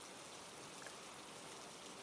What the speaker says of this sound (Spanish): está lloviendo en el País Vasco